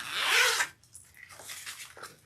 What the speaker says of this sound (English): I like to make sure that my zipper isn't twisted or anything